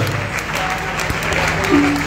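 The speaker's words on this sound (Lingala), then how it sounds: "Acclamons très fort le nom du Seigneur" Congregation at a church seminar applauding and cheering to praise the Lord, steady clapping under voices, with a loud amplified room feel.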